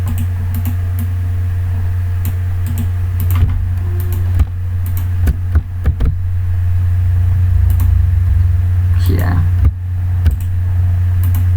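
C# code typed on a computer keyboard for a point of sale system: scattered, uneven key clicks sit over a steady low electrical hum, close to the microphone.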